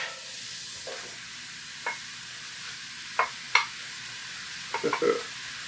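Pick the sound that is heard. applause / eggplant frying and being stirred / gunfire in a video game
eggplant frying and being stirred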